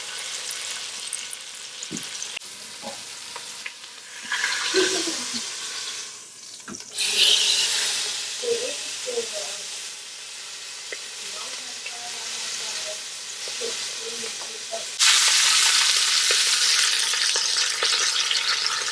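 Pot roast browning in an Instant Pot, a steady hiss of frying meat with louder surges as pieces are moved and turned, plus occasional clinks of utensils.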